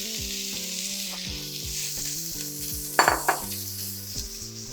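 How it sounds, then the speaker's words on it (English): Steady crackling sizzle of bacon frying in a hot pan, with a couple of sharp metallic clinks partway through. "our pan is hot, and we're gonna fry some of the bacon"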